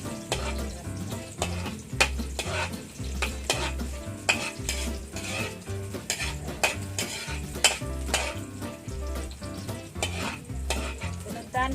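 Crushed garlic fries in a pan for coconut-milk catfish stew, with a constant sizzle and a spatula scraping and knocking against the metal in a steady rhythm.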